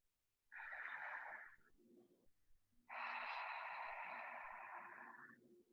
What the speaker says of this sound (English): take an open mouth exhale and maybe even an inhale